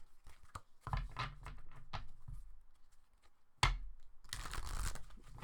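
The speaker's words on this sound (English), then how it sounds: "Shuffle them a little bit more." Tarot cards shuffled by hand in bursts of riffling, papery crackle and soft slaps, close and fairly quiet, with a pause in the middle and no talking.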